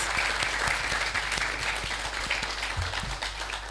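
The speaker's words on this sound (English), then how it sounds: "I want to start by allowing you the opportunity to give yourselves a round of applause." A graduating class of 2023 applauds themselves at a convent school graduation ceremony, a steady, dense wash of many hands clapping at once, sustained and fairly loud for the whole stretch with no talk over it.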